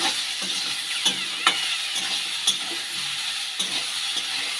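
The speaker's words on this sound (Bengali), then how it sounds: "সব মশলা দিয়ে বিনস আর আলুগুলোকে ভালো করে ভেজে নেব" Beans and potatoes fry with cumin paste and chilli powder for a prawn curry, giving a steady close sizzle broken by sharp spatula scrapes and clinks at irregular intervals.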